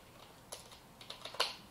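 Fingers tap a computer keyboard in a quiet room, a few soft scattered keystrokes speeding into a short burst of quick clicks, with no talking.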